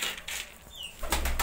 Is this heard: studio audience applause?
no